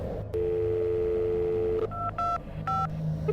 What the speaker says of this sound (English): Frantic, I picked up the phone and dialed the police.